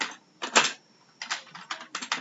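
Keys on a computer keyboard are typed in several quick bursts with short pauses between them, close and clear, with no voices.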